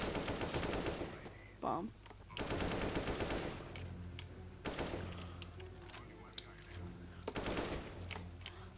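AK rifle fire in a video game, aimed at the floor, comes as loud repeated automatic bursts with brief gaps between them, and someone talks over the shooting.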